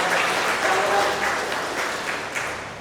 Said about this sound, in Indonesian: Mari kita berikan tepuk tangan kepada Romo.